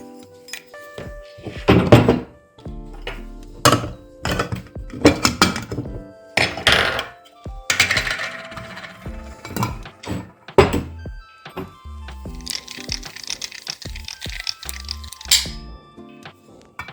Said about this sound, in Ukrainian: Зараз спробуємо ще раз закрити кришку.